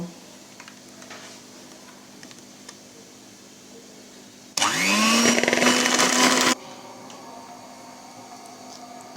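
An electric beater whirs loudly for about two seconds as it mixes eggs with mustard powder, sugar and salt for homemade mayonnaise, starting and stopping abruptly against a quiet kitchen background.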